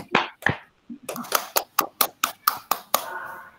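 About a dozen sharp, close hand claps in a quick, fairly even rhythm, given as applause for Dr. Suwardi during an online webinar, heard alone without talk.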